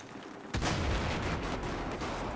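Gunfire from the Battlefield 4 video game during a Team Deathmatch on the Golmud Railway map, a sudden loud burst after a brief quieter lead-in, then dense continuous shooting that stays strong to the end with no voices.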